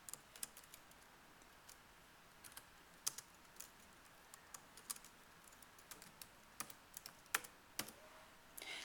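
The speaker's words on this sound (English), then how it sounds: "I'm just going to type in word problem" Typing on a computer keyboard while entering text, quiet irregular key clicks scattered throughout at close range, alone with no talking.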